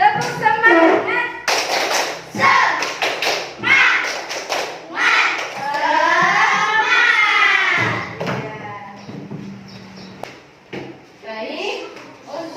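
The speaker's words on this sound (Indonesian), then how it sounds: "Coba ya tepuk semangat dulu." Classroom of children doing the rhythmic tepuk semangat clapping chant, sharp grouped claps and thumps alternating with sung and chanted voices, close and loud.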